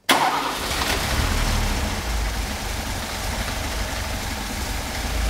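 Classic Mercedes-Benz engine starting right at the beginning, then settling into a loud, steady idle with a low rumble that continues throughout.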